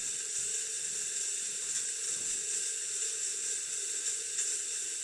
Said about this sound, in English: I'm just going to let it steam.